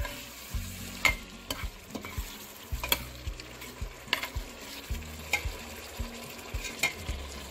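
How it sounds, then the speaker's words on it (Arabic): Meat fried in hot oil with vermicelli, seasoned with a coriander and garlic mix and spices, sizzles steadily while a utensil stirs it in regular scraping strokes, close and fairly quiet with no talk. "هون عندنا حمي الزيت مسقط الشعيرية، عم نضلنا نقلب باللحمة"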